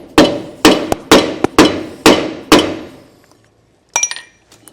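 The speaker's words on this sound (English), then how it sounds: "I've got a drive tool so that I can hammer it in to our hub assembly" A drive tool is struck by a hammer to seat a dust cap into an electric trailer brake hub assembly. Six loud, evenly spaced metallic blows ring close by, with smaller taps between them, followed by a brief clink of the tool being set down.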